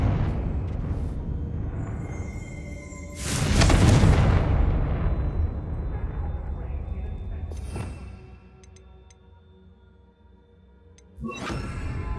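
A Confringo blasting spell detonates in Hogwarts Legacy, a loud booming burst that rolls out into a long rumbling decay, followed by further distant thuds and a second sharp blast near the end.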